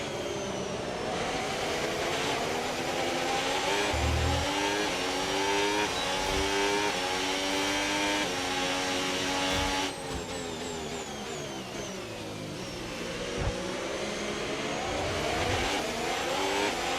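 An F1 race car engine in the F1 25 game, running during the 2026 season Chinese Grand Prix at Shanghai International Circuit, roaring and accelerating through repeated rising gear sweeps with brief shifts, loud and continuous.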